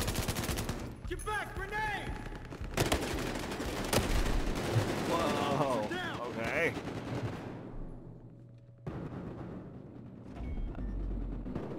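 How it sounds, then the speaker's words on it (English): Gunfire and a grenade blast from a Battlefield: Hardline match crackle through the game mix, with sharp shots and a dense burst of fire over background game sounds, while players talk over it. "Get back, grenade!"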